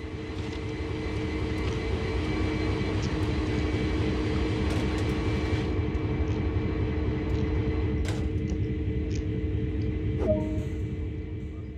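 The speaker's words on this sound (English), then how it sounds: "Climb aboard this locomotive and we'll get started." A CSX heavy haul diesel locomotive in Train Sim World idles and drones steadily with a low, throbbing engine rumble and tonal hum, with a few faint clanks and a brief squeal near the end.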